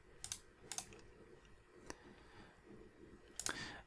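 A computer keyboard is typed on in a few sparse, faint clicks and short bursts against quiet room noise.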